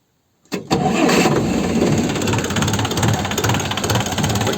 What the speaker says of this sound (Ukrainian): Зараз запущу двигун, послухайте, як працює, як запускається.